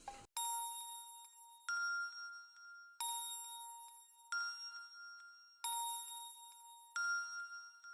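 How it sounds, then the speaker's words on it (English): A synthesizer bell patch, the JP80 bell from Xenology, plays six clean, ringing struck notes at an even pace, each one sustaining and fading, alone and at low volume. "I use this bell a lot because I know the name of it"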